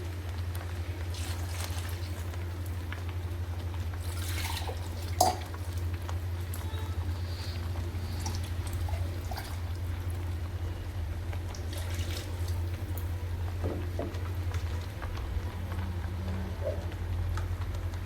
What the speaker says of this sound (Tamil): இந்த ஜாரை கழுவணும்